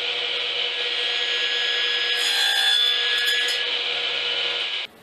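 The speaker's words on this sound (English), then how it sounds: "I'm just going to take a piece of scrap I've got laying around and cut it to length." A hand saw cuts a scrap piece of wood to length during the build of a mini crossbow, a steady rasping stroke sound that runs close and alone for about five seconds before stopping abruptly.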